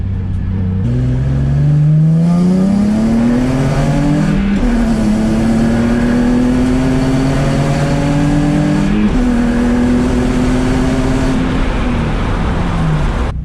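A Nissan 350Z fitted with a short shifter revs up through the gears, its engine pitch climbing and dropping at each of several shifts, loud and close, with no voices.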